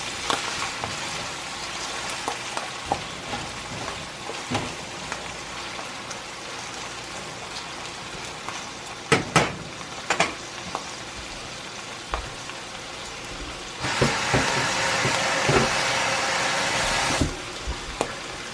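Food frying in a pan while meatball subs are made: a steady sizzle with scattered pops and crackles, swelling into a louder, denser hiss near the end.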